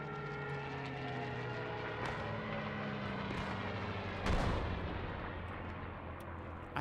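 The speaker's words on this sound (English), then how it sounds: "Stuka coming in." A Stuka dive bomber attack in a war video game: a steady droning aircraft engine builds, then a loud blast hits partway through, with scattered distant gunfire around it.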